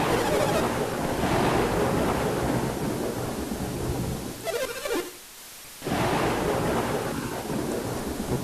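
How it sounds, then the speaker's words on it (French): Steady heavy rain pours down with rolling thunder rumbling through it in the video game Golden Sun; the downpour dips briefly before surging back at full strength. "Ah non, il continue de pleuvoir."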